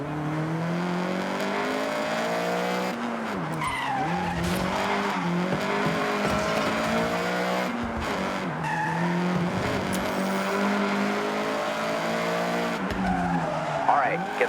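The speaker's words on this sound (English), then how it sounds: "All right, get the CRX up to speed." Honda CRX in the video game Forza Horizon, engine revving up and down through gears with repeated tire screeches and skids, loud and continuous, with a person talking over it.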